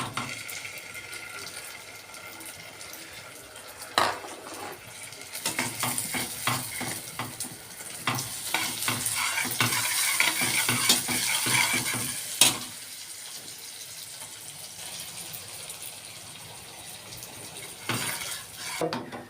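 Butter sizzles softly in a pan over lowered heat while a utensil stirs and scrapes, with occasional sharper clinks against the metal.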